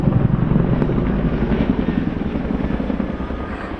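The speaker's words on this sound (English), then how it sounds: "you can hear why the aircraft is called the Whocker. Just because of that blattering noise it makes." An RAF 27 Squadron Chinook twin-rotor helicopter at the East Fortune airshow gives a loud, continuous low rotor blatter with a steady pulsing throb, close and dominant throughout.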